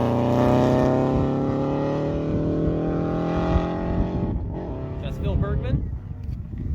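A rally car races loudly through a forest stage, its engine droning in a long, strained note before gear changes and revving toward the end, with commentators talking over it.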